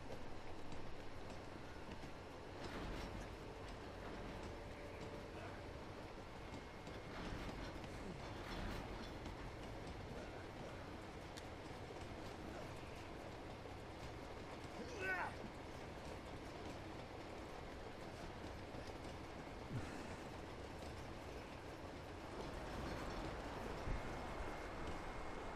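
A train rolls steadily in the video game Uncharted 2, a continuous broad rumble with faint clickety-clack and a few soft knocks, carrying on without any talk.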